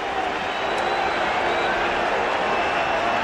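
Baseball stadium crowd at Wrigley Field during a Yankees at Cubs game reacts as Roger Clemens is pulled, a dense, steady roar of many voices, sustained and loud throughout, with a broadcast announcer talking over it.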